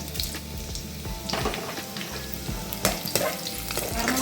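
Mustard seeds and green chillies fry in hot oil in a kadai, giving a continuous dense sizzle with spattering pops and the scrape of stirring throughout, with no talking.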